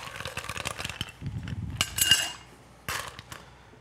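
Ice cubes clatter and clink into a glass or shaker while a bourbon ginger-beer cocktail is made, a series of sharp close knocks and rattles with a louder burst midway.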